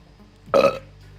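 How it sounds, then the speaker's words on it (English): A single short, loud burp from a person, a rough voiced belch lasting about a quarter second against a quiet background. "Ooh, burp."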